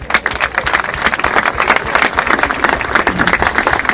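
A crowd gives loud, dense applause at a bridge centenary celebration, with continuous rapid clapping from many hands, close and steady for the whole stretch.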